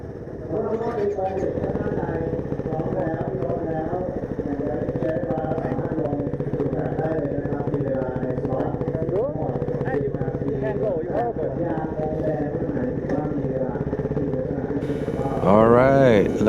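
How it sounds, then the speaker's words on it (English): A Ducati Hypermotard 698 Mono RVE motorcycle engine runs at a steady idle close by, holding an even drone throughout while people talk over it. "Start engine."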